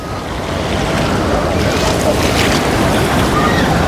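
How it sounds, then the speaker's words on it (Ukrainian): Small waves wash at a spa beach in a loud, continuous surge of water noise, heavily buffeted by wind across the microphone. "Ще й хвильки трохи."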